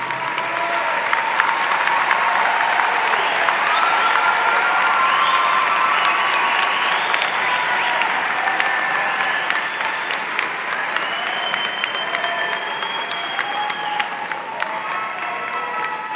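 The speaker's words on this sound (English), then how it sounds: "give a round of applause" A large commencement ceremony crowd applauds steadily and loudly for the whole stretch, with scattered cheers and whoops rising above the clapping.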